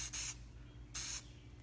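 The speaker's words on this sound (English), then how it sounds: "spray it on, go over everything else" Two short hissing bursts from an aerosol sealant can sprayed onto signed plastic, each about a quarter second, close by with a pause between.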